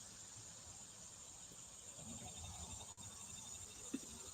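Cicadas buzz outdoors in a faint, steady, high-pitched drone that carries on unbroken, sounding distant and quiet throughout.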